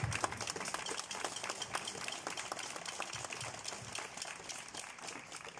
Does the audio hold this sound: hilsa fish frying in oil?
no